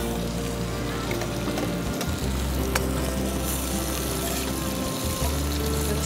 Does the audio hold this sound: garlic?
yes